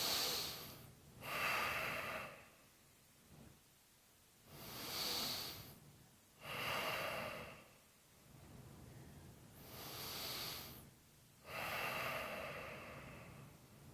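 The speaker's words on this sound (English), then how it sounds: "let's start by taking 3 deep cleansing breaths right into your navel" Deep cleansing breaths drawn in toward the navel during a mindfulness exercise: six slow, loud inhale-exhale cycles, each a rushing breathy swell lasting over a second, separated by quiet pauses, close and alone with no talk.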